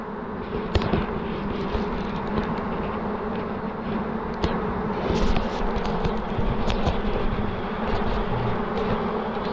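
A honey bee swarm being removed outside a village bridal boutique gives off a continuous, close, loud buzzing drone that holds steady throughout with no talk.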